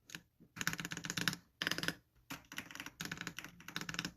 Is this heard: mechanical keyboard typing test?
yes